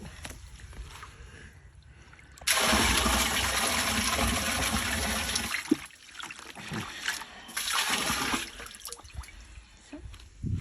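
Mixed bio-preparation solution poured into a cesspit: a steady, loud rush of liquid that lasts about three seconds, then breaks into uneven gushes and splashes, with no speech over it.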